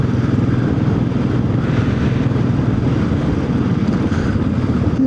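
A Royal Enfield-style Classic 500 single-cylinder motorcycle cruising on a country road between Matlock and Little Eaton, its engine giving a steady, loud, continuous drone with wind rumble throughout.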